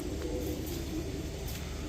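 A male Chandilal pigeon coos in a low, continuous murmur close by, steady and unbroken for the whole short stretch with no voices.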